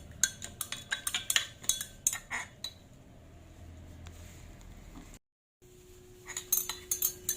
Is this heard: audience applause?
no